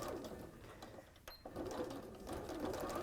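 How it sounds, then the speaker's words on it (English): A sewing machine stitches around three sides of fabric in a close, continuous whirring run, with a brief pause near the middle before the stitching resumes at a steady pace. "So you're just stitching around 3 sides, so you've got a turning gap."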